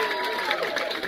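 Audience at a karaoke show aboard the Carnival Breeze cruise ship, cheering and applauding in a brief, dense burst of crowd noise.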